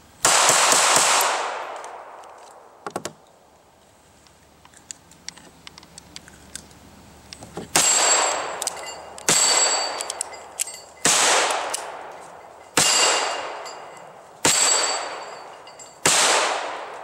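A DiamondBack .380 pistol, just back from factory repair, fires outdoors: one sharp report, a pause filled with small clicks and handling, then six loud, evenly spaced shots with ringing decay.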